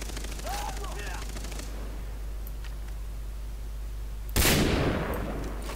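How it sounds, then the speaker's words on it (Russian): Gunfire from a Far Cry 3 multiplayer match: a single loud, sharp burst near the end over a steady background hum, with a voice talking briefly earlier. "Там снайпер, что ли? А, нет, ты стреляешь."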